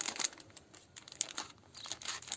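Soft, close crinkling of a 100-gram paper packet, rustling in irregular bursts as powder is poured out to mix Bordeaux mixture for spraying an orchard, quiet and alone.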